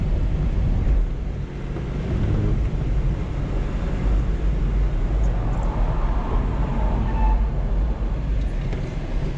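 A 2023 Subaru BRZ drifting under braking into oversteer gives a loud, continuous engine and road roar that holds steady for the whole stretch, with heavy low rumble and no voices.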